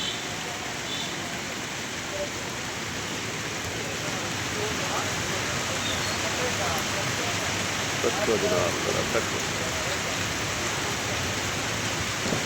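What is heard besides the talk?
heavy monsoon rain falling in Lahore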